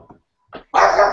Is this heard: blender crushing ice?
no